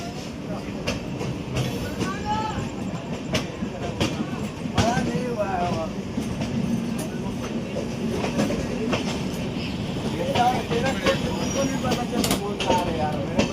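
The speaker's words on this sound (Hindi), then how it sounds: "घुसने वाली है गाड़ी, ठीक है।" An express train rumbles and clatters along the rails into a junction station, with rhythmic clicks and occasional squeals, while people talk nearby.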